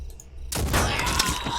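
A sniper rifle shot in the Phoenix Point video game: one sudden loud blast after a quiet moment, followed by a rumbling, crackling tail that lasts to the end.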